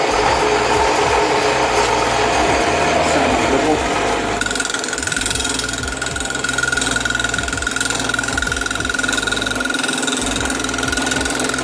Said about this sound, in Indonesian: ini namanya mesin bobot. Ini fungsinya untuk mengupas ini tadi.